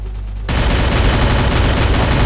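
Automatic gunfire in a shooter game played on an Android emulator bursts in after a short lull, a loud, dense, continuous rattle of rapid shots filling the rest of the moment.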